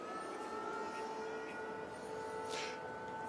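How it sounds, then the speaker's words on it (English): Air raid sirens wailing over Kyiv in Ukraine, a steady sustained tone heard faint and distant against quiet city background. "You might be able to hear the air raid sirens just behind me"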